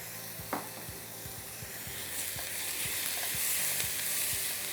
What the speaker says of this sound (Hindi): अदरक लहसुन डाल के अच्छी तरह आपने उसको सौटे करना है